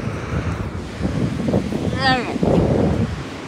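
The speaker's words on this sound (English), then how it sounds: "the wind was picking up a bit" Wind gusting over a harbor with surf, producing a steady roaring rumble and microphone buffeting, with a voice speaking briefly and a short whistling tone over the noise.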